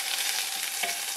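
Garlic and chili frying in oil, a steady close-up sizzle with light stirring scrapes through the moment, no voices.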